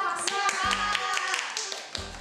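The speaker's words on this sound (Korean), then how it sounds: "와, 박수!" Short burst of hand clapping in a classroom script-reading session, a few sharp claps close by mixed with people talking.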